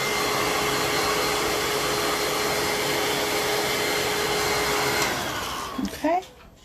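Steady broadband whoosh of a hair dryer on a low heat setting, drying acrylic paint for a painted nest, runs loud and unbroken for about five seconds before it cuts off, leaving a few faint handling knocks.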